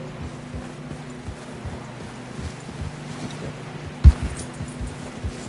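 Horse hooves clip-clopping at a steady walk in Red Dead Redemption 2, near and moderately loud over a low ambient rumble and wind, with one sharp thump near the end.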